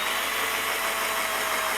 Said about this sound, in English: So I'm just gonna drill a little pilot hole at that sort of angle